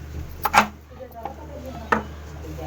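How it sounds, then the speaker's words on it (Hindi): A knife slicing white radish into small thin pieces on a cutting board, giving a few sharp, close chops spaced apart over a low steady background hum. "छोटे छोटे पतले पतले पीस काट लेंगे इस तरह से"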